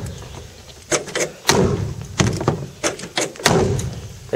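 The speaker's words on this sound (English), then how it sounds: "Doors don't lock for some reason. Just got to get them closed as best I can." Heavy car doors on a rusty 1960 Cadillac Coupe DeVille being pushed shut several times, each a loud solid thud or slam with metallic rattle, spaced irregularly and close by, with no talking.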